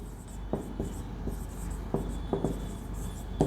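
Chalk or marker scratching across a board during a maths lecture, a series of short strokes and taps over steady room hiss with no talk.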